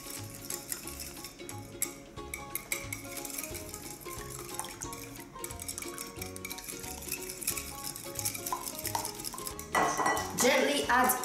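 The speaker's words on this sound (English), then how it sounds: "Whisk this up." Two or three eggs are whisked in a bowl, with a steady run of metal clinks against the dish beneath constant background music; the whisking grows louder and brisker near the end.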